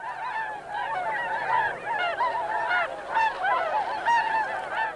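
Wintering swans on the Welney reserve call in a chorus of overlapping honking and bugling, several birds at once, continuous and moderately loud.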